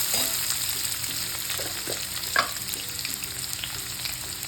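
A large onion fries in a pan, crackling in a steady close sizzle with occasional stirring clinks and one sharper knock midway; no voices are heard.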